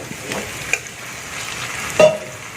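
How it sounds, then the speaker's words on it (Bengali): Potatoes are stir-fried in a spice masala for a Bengali fish-roe masala curry. A soft sizzle runs throughout, with a few scraping stirs and a sharper knock near the end. No one speaks. "এর সাথে আলুগুলোকে কষে নেব"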